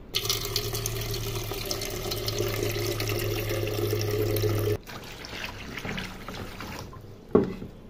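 Cold water pours from a jug into a cooking pot, a steady close splashing stream for several seconds that then thins and changes to a lighter trickle before a brief knock.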